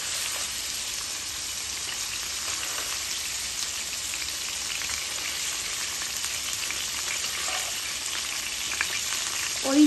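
King prawns fry in a pan for a prawn bhuna, making a continuous close, crackling sizzle that stays even and fairly loud throughout.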